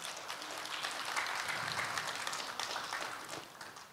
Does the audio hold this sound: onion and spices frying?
no